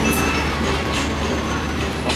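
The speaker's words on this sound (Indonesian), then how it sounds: "Ada kereta tuh masuk jalur 3." A train rumbles steadily nearby with a low, continuous roar and faint metallic squeals, rolling slowly into a platform at Cirebon station, Indonesia, around midnight.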